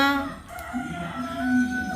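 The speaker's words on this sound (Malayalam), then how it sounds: "കോഴിയതാ ചോദിക്കുന്നത്" A chicken crows close by in a long, drawn-out call that wavers in pitch and carries over a low background hum.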